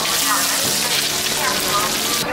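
Food frying on a griddle at a Northeast China morning market stall, a loud, steady, close sizzle and crackle of hot oil, with brief voices in the background.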